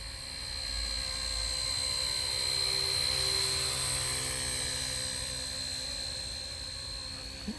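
An XK UH-60L K170 RC helicopter hovers close by, giving off a steady high-pitched rotor and motor whine that swells slightly and then eases. No one speaks.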